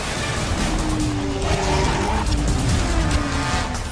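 Stunt cars and motorcycles race at a Disney stunt show, with tires squealing and skidding in long, continuous screeches over a loud engine roar.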